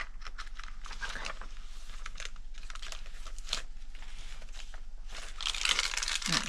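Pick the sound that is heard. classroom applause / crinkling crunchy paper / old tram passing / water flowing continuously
crinkling crunchy paper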